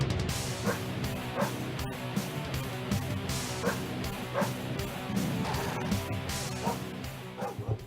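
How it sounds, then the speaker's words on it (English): Dog growls and barks on a metal song, yapping bursts recurring loud over a dense, constant wall of distorted guitars and drums throughout. "It's an actual metal band, and they just have a dog growling over it."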